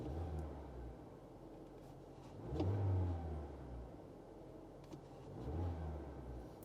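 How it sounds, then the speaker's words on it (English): Car engine idling low and then revving twice as throttle is applied, each rev a brief rising roar over a soft steady idle. "And again, I'll give it some gas."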